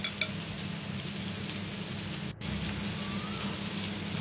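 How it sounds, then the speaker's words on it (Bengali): Spice masala being sautéed on low gas, a steady soft sizzle holding evenly throughout with a brief dip partway, no voices. "একটু মশলাটা ভালো করে গ্যাস কমিয়ে দিয়ে কষাতে হবে"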